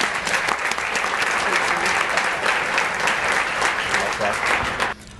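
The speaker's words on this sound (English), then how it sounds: "Let's give these members a round of applause." An audience at a regional chamber of commerce event applauds its members, sustained, even clapping from many hands for about five seconds before it cuts off sharply, with voices faintly mixed in.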